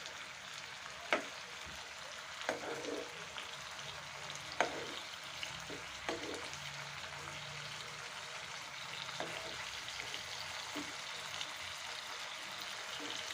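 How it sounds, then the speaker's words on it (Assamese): Chicken pieces fry over low heat in a nonstick pan with a steady, soft sizzle, broken by a few sharp stirring clicks and scrapes along the way. "এনেদৰে মই চিকেনখিনি ভাজিছিলোঁ এটি ননষ্টিক টাৱাখনত।"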